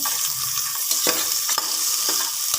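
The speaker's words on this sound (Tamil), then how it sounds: "சின்ன வெங்காயம் போட்டு நான் நல்லா வணக்கிக்கிறேன்" Small onions sautéing in hot oil with mustard seeds and chilli, a steady close hiss of frying with a few soft stirring scrapes, no talking.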